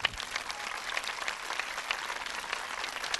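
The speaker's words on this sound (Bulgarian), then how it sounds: "Вашите бурни аплодисменти за този прекрасен шопски танц в изпълнение на фолклорен танцов ансамбъл Актавис" Applause from an audience after a Shopi folk dance performed by a folk dance ensemble on a Bulgarian televised dance show, a steady wash of clapping at moderate distance with no voices.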